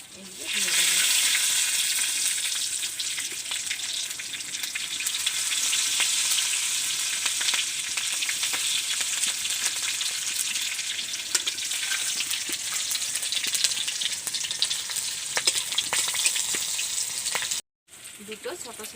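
Slit green chillies, bay leaf and five-spice (panch phoron) hitting hot mustard oil in a wok, a loud, dense sizzle that runs on steadily and then cuts off abruptly near the end.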